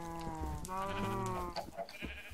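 A sheep bleats in a modded Minecraft world, a few close, wavering cries in quick succession followed by softer game clicks and sounds.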